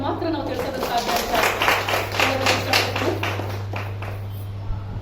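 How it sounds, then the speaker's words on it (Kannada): An audience at a women's cultural event held by a cultural association claps in steady applause, with faint talk underneath and a low electrical hum throughout. "ಇವರಿಗೆಲ್ಲ ಅಭಿನಂದನೆಗಳನ್ನ ನಮ್ಮ ಚಪ್ಪಾಳೆಯ ಮೂಲಕ ಮಾತ್ರ ನಾವು ತಿಳಿಸೋದಕ್ಕೆ ಸಾಧ್ಯ"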